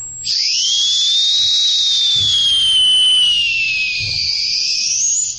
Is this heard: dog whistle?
yes